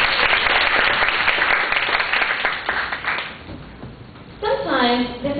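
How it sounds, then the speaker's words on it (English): An audience at a teacher's overseas-study experience sharing session breaks into applause, dense clapping for a few seconds that thins out, followed by a speaker talking. "Can we give him a round of applause?"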